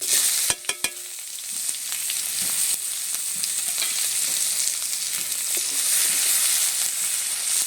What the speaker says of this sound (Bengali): দুটো শুকনো লঙ্কা দিয়ে দিচ্ছি আর ফোড়নের জন্য দিয়ে দিচ্ছি গোটা জিরে একটু আর দিয়ে দিচ্ছি পেঁয়াজ কুচি